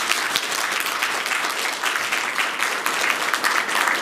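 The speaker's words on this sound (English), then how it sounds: "I would like to please give them a very big clap at all" An audience at a capstone festival claps for student project teams, dense and steady applause filling the room without a break, loud and close.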